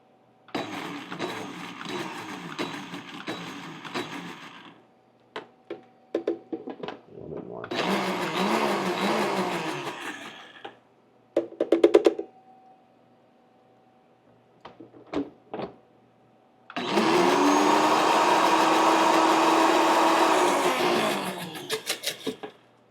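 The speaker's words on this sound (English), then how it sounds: "So I'm gonna add this right into our blender." A kitchen blender pulses a small batch of strawberry sauce in repeated short bursts with pauses between, ending in one longer, louder run; each whir starts and stops abruptly, close up.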